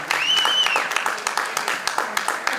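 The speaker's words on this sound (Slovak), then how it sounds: "Takže naozaj veľmi veľký potlesk" Applause from spectators at the 2013 Nové Zámky city road race, steady clapping across the whole stretch with a whistle-like tone near the start and some crowd voices mixed in.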